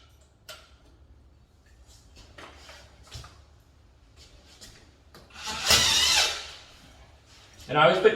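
A power drill drives screws to mount brackets for inside-mounted faux wood blinds, heard as two short whirring bursts, the first about a second long and the second near the end, amid quiet rustling.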